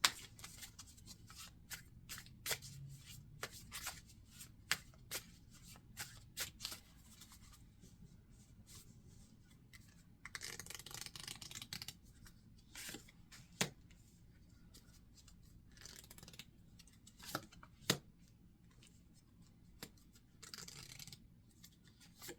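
Tarot cards are shuffled near and quietly in repeated bursts of riffling and sliding, with sharp flicks and taps between quieter stretches, alone without talk.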